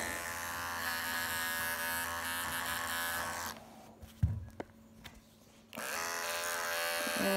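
Electric clippers buzz steadily while trimming a standard poodle's feet, cutting off briefly for a few seconds of quiet handling and light knocks before the close, even drone resumes.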